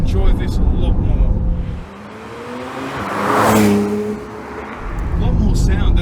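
A 2018 Porsche 911 Carrera T with sports exhaust drives by loudly up close, the engine note swelling and fading as the car passes, with more engine roar from the car before and after.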